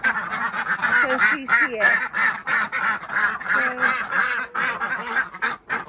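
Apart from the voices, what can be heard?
ducks and geese quacking in the morning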